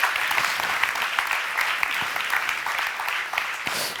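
Engineering graduates of the 2020 class at a diploma ceremony applaud themselves, a dense, steady crowd clapping that fills the hall for the whole stretch without a break.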